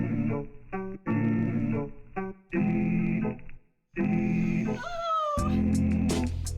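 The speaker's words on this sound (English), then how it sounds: "Cute little kitty." A cat meows in a few short, clear calls, heard close up over a steady bed of chill jazz music.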